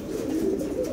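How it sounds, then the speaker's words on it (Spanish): A rafeño pigeon, a pure-bred domestic dove, coos in a brief low, soft throaty call, heard close and alone. "Rafeña pura, lindísima de esa paloma"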